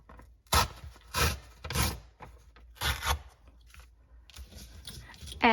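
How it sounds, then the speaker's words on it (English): Scissors snip along the white edge of a floral paper page for a junk journal, giving several close, crisp cutting bursts with short pauses between them. "So let's trim off this white edge."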